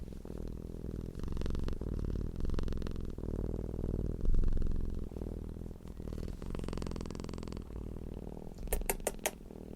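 A domestic cat purrs in a steady, deep, rumbling hum that stays close and continuous, with a few faint clicks near the end and no voices.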